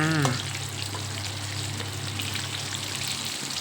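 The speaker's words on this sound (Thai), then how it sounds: "เราก็นำมาทอดนะคะ นี่เริ่มเริ่มเรื่องแล้ว เราก็ทอดไปเรื่อยๆเลยจ้า" Boiled pork belly pieces frying in hot oil for crispy pork, a dense, even sizzle and crackle heard close up, preceded by a brief tonal sound at the start.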